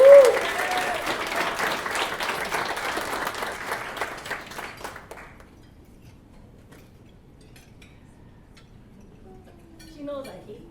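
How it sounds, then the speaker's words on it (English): An audience at a Pacific Island business awards luncheon applauds loudly, and the clapping gradually thins out and fades to near quiet after about five seconds. "Give her a round of applause"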